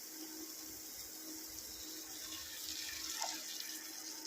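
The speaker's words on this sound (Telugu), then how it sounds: "ఇక నీళ్ళు యాడ్ చేసేసుకోవాలి" Water is poured into a pot of egg biryani, a faint, steady running-water wash that continues throughout.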